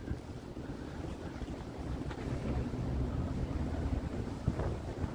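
Gusty wind buffets the microphone outdoors on a city walk in Toronto, a rumbling, uneven roar that swells and eases with no voices.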